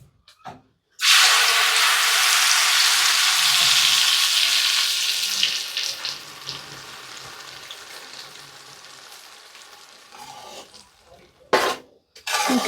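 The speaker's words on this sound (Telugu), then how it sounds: "అదే నూనెలోనే ముందుగా తయారు చేసి పెట్టుకున్న పనసకాయల పేస్ట్ అయితే వేస్తున్నా" Jackfruit paste hits hot oil and ghee in a pan, bursting into loud, close sizzling and frying that gradually settles to a quieter bubbling crackle, with a few sharp stirring clicks near the end.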